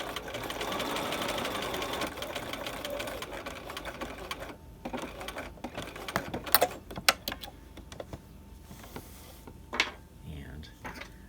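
A sewing machine runs fast short stitches on piping, first a steady buzzing run, then trailing off into scattered clicks and taps of the machine and handling.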